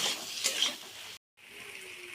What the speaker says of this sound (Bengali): আলুটা দিয়ে আর একটু ভালো করে কষিয়ে নেবো আলুটা মশলার সাথে।